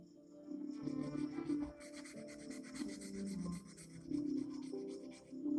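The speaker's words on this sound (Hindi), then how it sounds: "हम इसे 120 नंबर वाले सैंड पेपर के टुकड़े का इस्तेमाल करके साफ करने की कोशिश करेंगे।" Steady scratchy rubbing of 120-grit sandpaper over metal, continuous back-and-forth strokes close up, moderately quiet with no talking.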